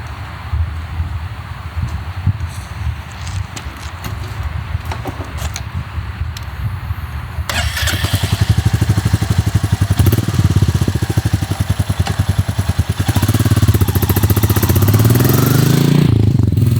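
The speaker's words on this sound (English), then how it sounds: "First test ride on the Royal Enfield Meteor 350 Aurora." A Royal Enfield Meteor 350 Aurora motorcycle engine starting from quiet and settling into a loud, close, rapid thumping idle, revving up briefly near the end.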